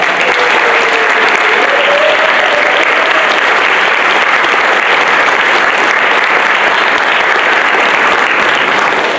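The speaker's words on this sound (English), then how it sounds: "let's give them a round of applause." Loud, continuous applause at an awards ceremony rises for foundation board members as they stand, with a full audience clapping steadily for about nine seconds and a faint voice briefly heard under it.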